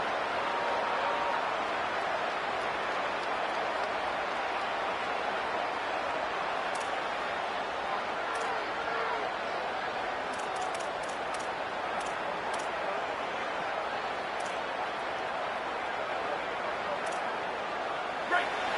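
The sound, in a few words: stadium crowd noise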